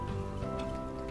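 Rain falls steadily in the video game Night in the Woods, a soft continuous patter of drops under a faint tonal background, with no talking.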